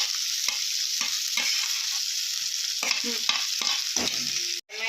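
Green onion, green garlic, carrot and peas fry in hot oil while being stirred, a steady close sizzle broken by repeated scraping strokes of the spoon against the pan.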